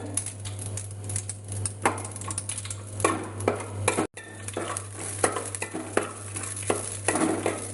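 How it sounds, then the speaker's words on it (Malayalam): Cashew nuts frying in hot ghee, heard as a steady crackle broken by scraping stirs of a spoon in the pan, with a low electrical hum underneath and no talk. "നെയ്യ് ചൂടായി അതിലേക്ക് അണ്ടിപ്പരിപ്പ് ഇടുന്നു."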